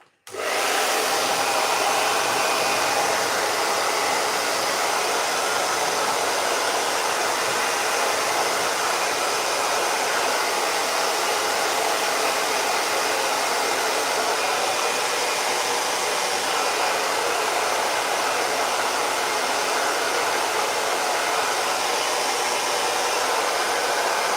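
A hair dryer blasts steadily on a painted metal chest to dry the paint, a continuous loud whooshing roar that starts abruptly and runs unbroken with no voices.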